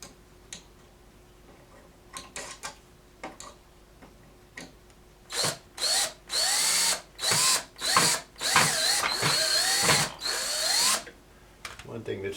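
A power drill drives drywall screws while model railroad modules are assembled: faint clicks and short whirs at first, then loud, close bursts of drilling in repeated pulses of one to two seconds, with brief talk in between.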